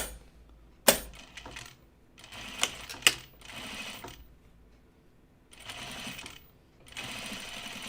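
Sewing machine stitching along a blazer seam during re-sewing, heard in several bursts of whirring stitching separated by pauses and a few sharp clicks and knocks, close by and moderately loud.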